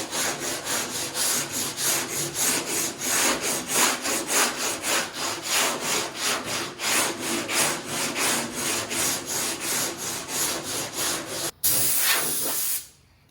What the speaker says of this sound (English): this is a door block with 40 grit